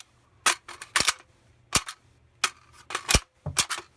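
An AR rifle magazine, a hex mag, drops free from a 3GN rifle build at a quick press of the release button, giving a series of sharp metallic clicks and clacks, close and loud, with quiet gaps between them.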